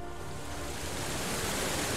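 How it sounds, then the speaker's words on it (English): Loud, steady rush of water gushing from a hole opened in a wall in a video game scene, a dense broadband roar that holds throughout with no talk. "It was the sound of water. It's really loud."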